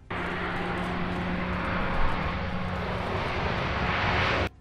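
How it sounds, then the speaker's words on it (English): E-2 Hawkeye carrier early-warning aircraft with turboprop engines, a steady loud drone with a low hum running throughout and no speech, cutting off abruptly at the end. "The E-2 Hawkeye also became known as the Hummer due to the unique humming sound that came from its turboprop engines"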